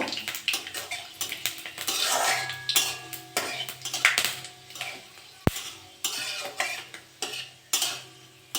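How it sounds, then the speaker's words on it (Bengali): Panch phoron and dried red chillies fry in hot oil with stirring, a rough sizzle broken by repeated scraping and clinking of a utensil against the pot, one sharp knock midway. "পাঁচ ফোড়ক আর তিনটে শুকনো লঙ্কা কেটে নিয়েছি দিয়ে দেবো একটু ভেজে নেব"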